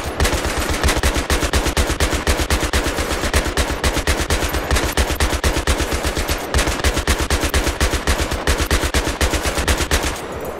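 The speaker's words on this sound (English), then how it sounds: "The gun only stops firing when it's overheated." Buggy-mounted machine gun in Battlefield 3 fires one loud, unbroken stream of rapid shots for about ten seconds, the bursts tightly spaced and close up with no pauses.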